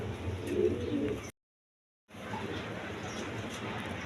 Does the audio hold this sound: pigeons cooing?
yes